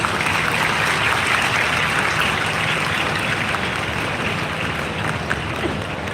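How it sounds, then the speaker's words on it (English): Large crowd applauding at a university convocation for a national forensic science university in Gujarat, a continuous, even roar of many hands clapping that holds steady and loud without a break. "Ladies and gentlemen, please give a big round of applause."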